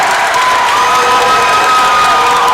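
A loud basketball crowd erupts at a high school game between Fannin and Gordon Central after an offensive foul call, a dense sustained roar of cheering and shouting filling the whole moment.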